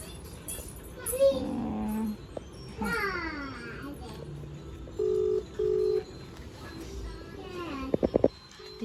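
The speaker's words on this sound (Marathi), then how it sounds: "आईच्या मोबाईलमधून मी काकाला फोन करते" Two short paired dial-tone beeps from a mobile phone placing a call sound in quick succession amid a child's chatter and scattered background noises, with a brief trill near the end.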